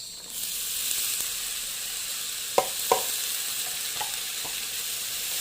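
Tomatoes sautéing in a pan for sinigang sa miso give a steady, even sizzle throughout, with a few sharp clicks and scrapes of a utensil against the pan.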